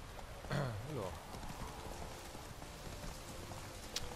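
Horse hooves clip-clop in The Witcher 3, a steady rhythmic trot heard fairly quietly alongside soft background patter and game ambience.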